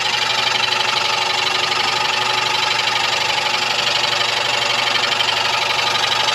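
Belt-driven boring machine cutting an engine cylinder bore, a loud, steady mechanical whir and chatter that runs unbroken at close range with no voices.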